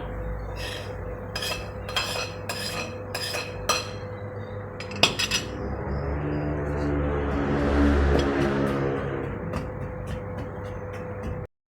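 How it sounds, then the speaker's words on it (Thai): Repeated sharp clinking knocks in quick bursts, then a steadier stretch of scraping and grinding pounding as chili and fish are pounded together in a mortar, fairly close with a faint constant hum beneath. "ต่อไปเราจะเอาเนื้อปลาลงไป โขก รวมกันเลยนะครับ"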